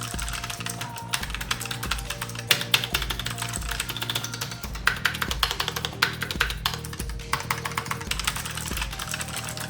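An ASUS TUF Gaming K7 mechanical keyboard typed on continuously, a dense fast stream of clicky keystrokes close to the listener, with a faint low hum underneath.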